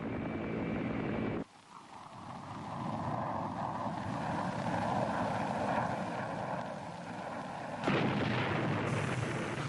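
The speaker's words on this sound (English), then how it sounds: "Fighter bombers and helicopter gunships hammered the landing zones." Fighter bombers and helicopter gunships attacking landing zones make a roaring, rumbling drone of aircraft engines with heavy blasts, loud and continuous, a sharp burst at the start and another surge near the end.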